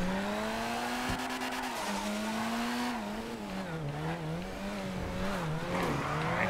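A car drifting in GTA FiveM, its engine droning steadily throughout while tires squeal in long wavering pitches that rise and dip as the car slides, loud and continuous with no talking.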